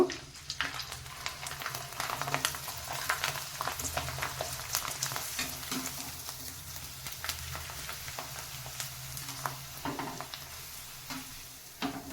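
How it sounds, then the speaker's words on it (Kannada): Sago rice papads frying one by one in hot oil, giving a steady, soft bubbling sizzle with scattered crackles throughout, with no voices. "ಇಲ್ಲಿ ಎಣ್ಣೆ ಕಾದಿದೆ ಒಂದೊಂದೇ ಈ ಥರ ಕರ್ಕೋಬೇಕು"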